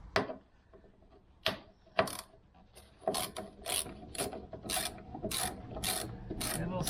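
A ratchet undoes two 10mm bolts holding the tail light on a Range Rover L322, with close, crisp clicking that starts sparse and settles into a steady run of rapid pawl clicks.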